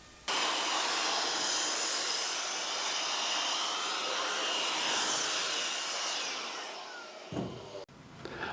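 A full-size router cutting a circle in wood with a circle jig starts up abruptly into a loud, steady high-pitched whine that holds for about seven seconds, then winds down and stops near the end.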